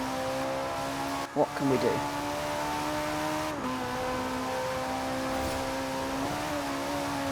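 A Ferrari 458 engine in Forza Horizon 4 holds a steady high-revving tone with brief gear-shift dips and a short burst of revving, heard close and continuous while someone speaks briefly over it.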